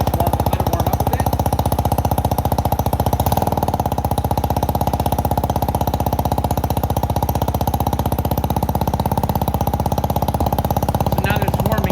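A 250cc motorcycle engine, started after months of sitting, idles high and steady on choke while warming up, a loud close rapid chugging pulse that stays even throughout with no break.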